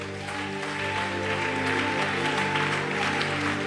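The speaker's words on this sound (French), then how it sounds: "Tu acclames le Seigneur." A church congregation applauds to acclaim the Lord, a steady wash of clapping from many hands sustained evenly throughout, mixed with a faint droning hum and no clear speech.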